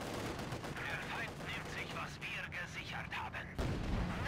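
A T-34 tank in Company of Heroes 2 firing at a sniper, with a busy wartime battle soundscape of rapid gunfire bursts and shots, ending in a louder blast near the end.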